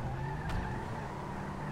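In Grand Theft Auto 5 Online, a vintage car drives with a loud, steady engine roar and a brief tire skid near the middle, a short, continuous burst heard close up.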